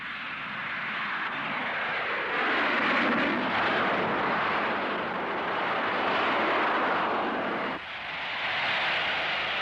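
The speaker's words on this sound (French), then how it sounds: "Verra-t-on un jour les avions décoller du centre des villes, comme ce Harrier à New York?" A Harrier vertical-takeoff jet roars loudly and steadily throughout, with a broad rushing engine noise that briefly dips near the end before swelling again, alone with no voices.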